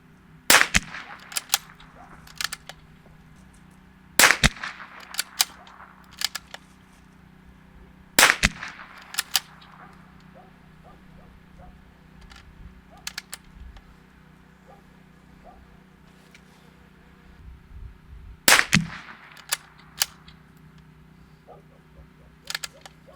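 Shots from a Bergara B-14R .22LR rifle, fired from a barricade at a range. The sharp cracks come in small clusters with pauses of several seconds between groups, over a steady low background hum.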